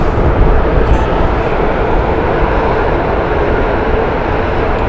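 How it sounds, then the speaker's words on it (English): British Airways Airbus A350 at Heathrow Airport, a steady, loud broadband jet roar holding evenly throughout with no voices. "Here's one, actually, Airbus A350 of British Airways."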